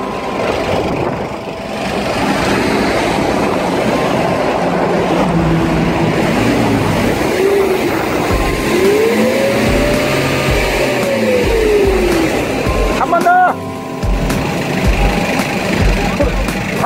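A Kia Bongo Frontier truck engine, a 2002 model, rumbles steadily and climbs in pitch as it revs, then eases back, with a loud low drone throughout and background voices.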